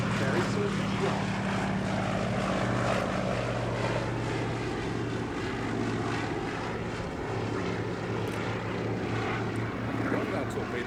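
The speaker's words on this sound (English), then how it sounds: "Seen here for a while for the Royal Navy historic flight in the majestic Fairey Swordfish" A Fairey Swordfish Mk I biplane flies at the Duxford Air Festival, its propeller engine droning steadily at moderate distance while a commentator talks over it.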